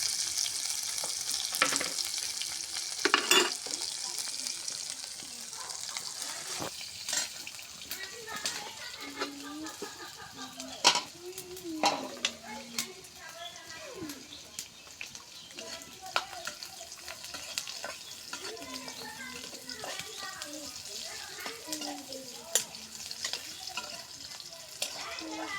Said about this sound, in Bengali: তেল দিয়ে দিলাম কড়াইয়ে, জিরা, কুচি, রসুন কুচি,